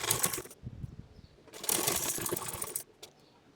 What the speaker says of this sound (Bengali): এখন সাইডে দুই পাশে যে রয়েছে দুই পাশে সেলাই দিয়ে দিব।